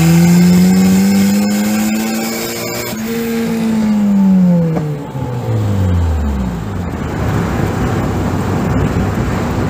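A custom turbocharged Mazda Miata engine revs hard in second gear, its pitch climbing and then falling as the revs drop, loud and close, with broadband rushing noise taking over afterward.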